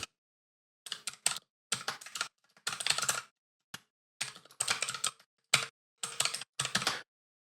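Fingers typing code on a computer keyboard, bursts of quick clicking keystrokes separated by short pauses, close and clear in an otherwise quiet room, with no voices.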